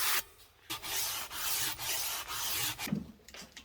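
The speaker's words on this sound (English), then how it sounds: "if you sand in motion with the wheel, you'll fix, or at least you won't have to fix all of the scratches later" An Alfa Romeo OZ Monza three-piece wheel being hand-sanded, with close, loud, rasping strokes in a steady back-and-forth rhythm broken by short pauses.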